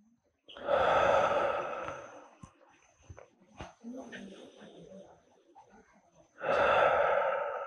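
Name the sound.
breathing out during yoga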